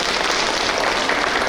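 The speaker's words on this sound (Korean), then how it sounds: "여러분 지훈 스님을 큰 박수로 맞이해 주시기 바랍니다." Audience applause at a Buddhist culture expo lecture, a steady dense wash of clapping filling the hall for the whole stretch at even loudness, with no voices over it.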